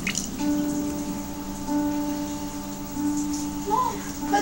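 Half a cup of oil poured into lemon cake batter gives soft drips and a wet glug over a steady hum in a home kitchen.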